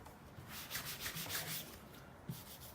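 A buffer works over the paint of a Volvo 242, a quiet rhythmic rubbing hiss that swells and eases in short strokes with no voices.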